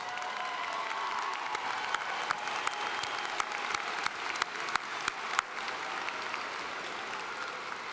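Commencement crowd at Lamar University's College of Arts & Sciences applauding the graduates' grandparents, sustained moderately distant clapping across a large venue, with occasional sharper individual claps standing out.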